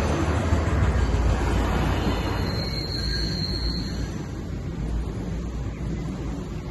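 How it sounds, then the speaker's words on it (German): A freight train rolls through Stolberg (Rheinland) station on the Cologne–Aachen line, a loud, steady low rumble of wagons passing close by with a faint high squeal partway through. "reichte es zwar noch für diesen Güterzug"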